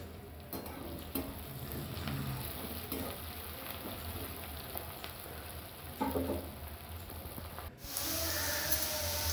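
Chopped onions with salt frying in hot oil in a pan for chicken curry, a steady close sizzle with intermittent stirring scrapes and a louder burst of hiss near the end.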